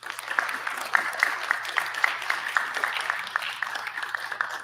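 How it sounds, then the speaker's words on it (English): A crowd applauds steadily, many hands clapping in a dense, even patter that continues throughout at moderate volume. "a big round of applause"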